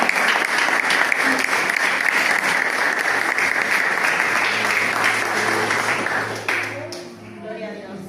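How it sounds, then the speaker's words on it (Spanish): A crowd applauds loudly and steadily for several seconds, then the clapping fades out. "Por eso denle un aplauso al Señor."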